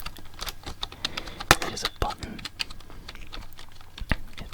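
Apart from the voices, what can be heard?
tapping buttons on a laptop keyboard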